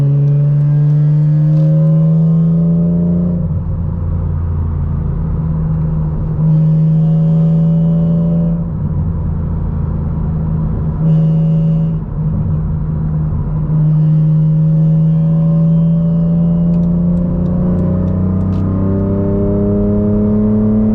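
A 2006 BMW Z4 M with a 6-speed manual pulls hard on a highway with the windows up, its engine droning loud and close and rising in pitch through each gear, with brief dips at the shifts and no talking.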